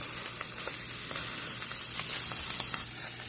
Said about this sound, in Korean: 달궈진 냄비에 콩나물을 깔고 콩나물을 깔겠습니다